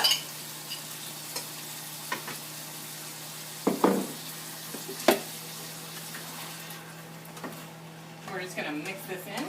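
Food being stirred in a cooking pan for a cheap homemade dinner, with a few scraping clacks of the utensil over a steady low kitchen hum and faint sizzle; a quiet voice speaks briefly.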